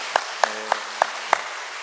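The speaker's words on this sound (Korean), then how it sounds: "우리 박수로 한 번 더 격려했으면 좋겠습니다" A church congregation claps during a Sunday worship service, a handful of distinct claps spaced at a steady rhythm over a continuous airy background.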